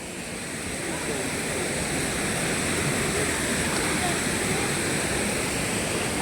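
Karumparai waterfall pouring down, a dense, steady roar of rushing water that stays loud and unbroken throughout.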